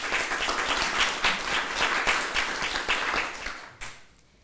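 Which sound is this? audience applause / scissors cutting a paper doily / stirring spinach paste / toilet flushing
audience applause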